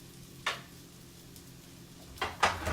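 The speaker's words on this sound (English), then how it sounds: "Now we're going to whisk together" Sauce for sesame tofu being whisked in a bowl, a few short scraping strokes close by, one isolated and then a quicker cluster toward the end, over a quiet room tone.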